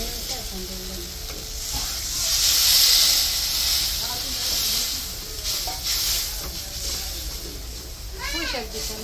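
Spice paste of ground masala sizzles and hisses in a pan after water is added while cooking river poa fish with mustard paste and Malabar spinach, a loud steady frying hiss with stirring scrapes and a voice talking over it.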